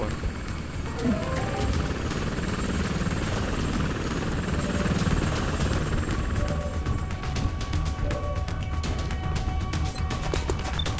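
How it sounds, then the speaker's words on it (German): Helicopter in the video game XCOM: Enemy Unknown, a loud and continuous rotor roar with engine whine that holds throughout and carries a few faint game effects. "Flieger aufgesetzt, mit Hubschrauber."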